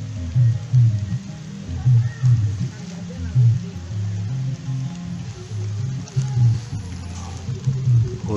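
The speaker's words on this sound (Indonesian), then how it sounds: "Hujan-hujan mancing terus, semakin besar hujannya." Heavy rain falls on a lake during fishing, a steady broadband hiss running throughout beneath a low, pulsing hum, with no clear talk.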